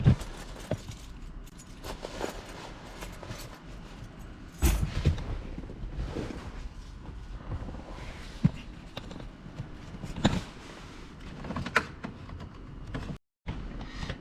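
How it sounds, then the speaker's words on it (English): Car keys jangle and clatter in short bursts near the microphone while a gauge is installed in a car, with a few knocks and handling sounds between them and no talking. "Put the keys on."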